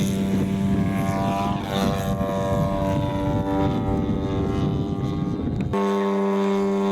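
A RedwingRC 50cc Yak 55 model airplane performs aerobatics, its gas engine droning loudly and steadily with shifting pitch as it maneuvers, then a sharp change in tone near the end as the throttle drops.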